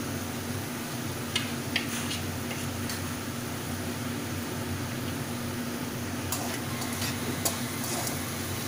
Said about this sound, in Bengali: লবণ আর হলুদ নিয়ে আমি কিছুক্ষণ ভালো করে একটু নেড়ে চেড়ে ভেজে নেব।